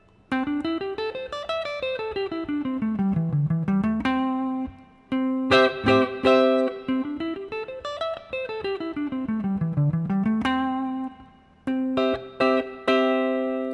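A guitar runs a pentatonic scale note by note up to the top and back down to the root, twice, each pass ending on a sustained low note.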